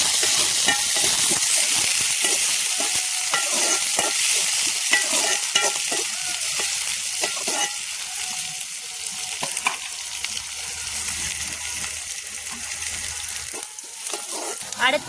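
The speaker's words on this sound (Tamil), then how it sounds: "அடுத்து கருவேப்பிலை சேர்த்துக்கலாம். நல்லா வதக்கி வச்சுக்கலாம்." Curry leaves frying and being stirred in a pan for prawn gravy, giving a loud, continuous crackling sizzle with constant scraping stirs throughout, close up and with no talk.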